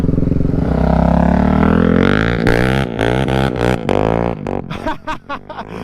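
A Can-Am Renegade 1000 ATV engine roars loud and close, holding a steady high drone, then breaking into choppy bursts of revving and throttle blips as it is ridden.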